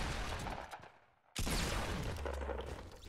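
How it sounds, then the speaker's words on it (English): Gunfire from a Fortnite Battle Royale duos match, a sustained burst of shots that drops off briefly, then starts again with a sharp loud crack and keeps rattling, close and dense with no talking. "Somebody just shot at me."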